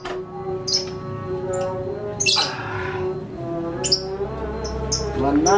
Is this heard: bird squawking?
yes